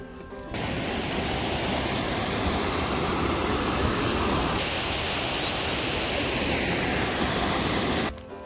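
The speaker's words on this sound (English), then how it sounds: "I hear a waterfall." Steady rushing water from a waterfall at Cascade Park in New Castle, Pennsylvania, pouring continuously, a broad hissing roar that holds evenly throughout with no voices.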